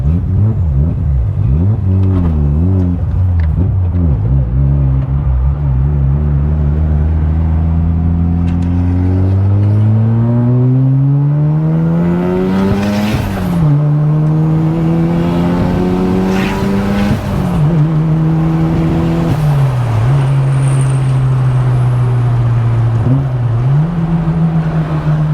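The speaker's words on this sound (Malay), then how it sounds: "dia punya exhaust system apa ni bang? Sedap bunyi dia." A 320 hp Mazda RX-8 with a 1.3-litre engine revs loudly through its exhaust, climbing through the gears with deep rising drones and sharp shifts, close and sustained.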